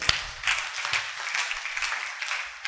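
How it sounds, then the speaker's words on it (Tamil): A church congregation claps hands in a short burst of scattered, moderately loud claps that taper off over a few seconds. "கைத்தட்டுங்க."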